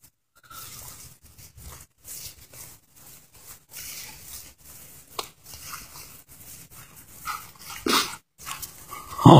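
A Rottweiler-Labrador mix dog barks outdoors at an off-grid home, a scattering of short soft barks and whimpers spread irregularly over several seconds, growing louder toward the end.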